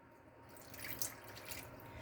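A little water is poured into a whole can of refried beans warming in a pan on low heat, giving a faint, brief trickle and drip against a quiet kitchen background with no talking.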